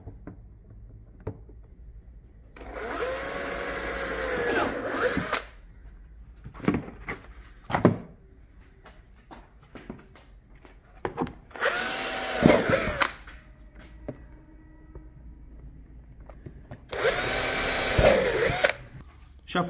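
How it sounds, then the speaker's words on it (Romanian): A power drill whirs in three separate bursts of a few seconds each, boring holes in a Citroen C4 bumper for parking sensors, with quieter handling clatter and scraping between them. "pe partea din spate o să dăm mai întâi gaură cu burghiul"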